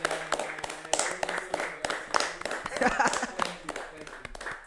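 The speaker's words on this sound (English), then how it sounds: "Please give a round of applause for our president of the youth." A small group claps for the youth president at a casual youth gathering, scattered, uneven handclaps with distinct individual claps, close by, while people talk over it.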